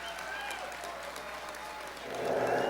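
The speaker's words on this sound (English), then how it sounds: "Let's give him a round of applause," Steady crowd applause at a hunting club's buck pole final party runs throughout, thick and continuous, swelling louder near the end.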